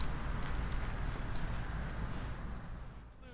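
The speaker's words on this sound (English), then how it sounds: "Crickets." Crickets chirp at night in a quiet desert town near Death Valley, a faint steady pulsing trill repeating in short regular bursts over a soft background hiss.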